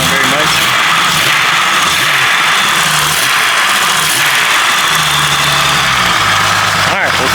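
A 4.0 engine runs on a straight Lucas oil additive in cold weather with noisy lifters, giving a loud, continuous close-up roar with a rough ticking texture throughout.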